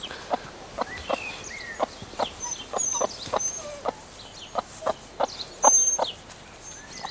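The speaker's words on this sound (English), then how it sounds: "Just came to feed the chicks." Chickens cluck repeatedly at feeding time in a backyard coop, sharp irregular clucks close by with softer bird calls in the background and no talk.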